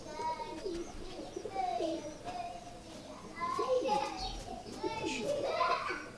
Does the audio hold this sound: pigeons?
yes